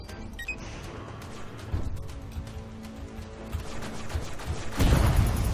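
Rapid bursts of gunfire in the horror shooter game Ghost 1.0, crackling shots and crashing impacts over busy game noise, swelling into a loud burst near the end.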